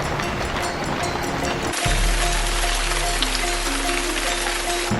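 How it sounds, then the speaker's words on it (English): Rain begins falling on a shelter roof at a remote survival camp, a dense, steady hiss of drops that shifts abruptly partway through and continues evenly. "it's starting to rain right now"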